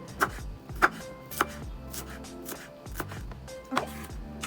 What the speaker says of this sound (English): so I'm cutting it into smaller pieces, so it makes the blending process easier